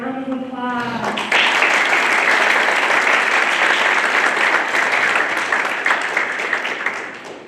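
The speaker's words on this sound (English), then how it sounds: "Give a round of applause." Loud audience applause at an academic symposium welcoming a speaker swells abruptly after a brief voice at the start, then continues as dense, even clapping that slowly fades toward the end.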